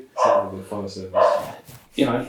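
A dog gives a few short barks and yips in close succession, mixed with someone talking casually indoors.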